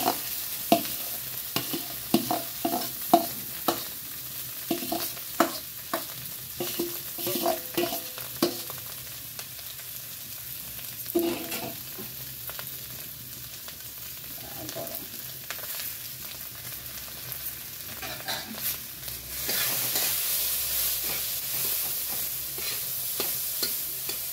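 Boiled potatoes with turmeric fry in a hot pan for a fish curry, sizzling steadily for over twenty seconds while a utensil scrapes and stirs in frequent rhythmic strokes.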